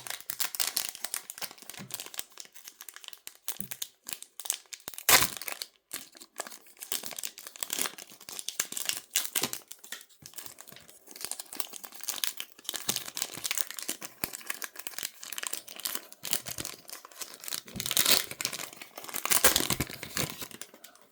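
Crinkling and tearing of a foil booster pack of Kinder and Panini trading cards, close-up rustling in irregular bursts with a few sharper rips, continuing for a long stretch without talk.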